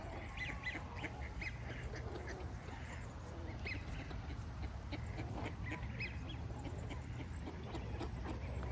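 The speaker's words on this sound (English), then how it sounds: "Ducks, ducks, ducks, ducks. And mallards." Mallard ducks quack in scattered bursts across a steady, busy outdoor background, the calls fairly faint and overlapping with no one speaking.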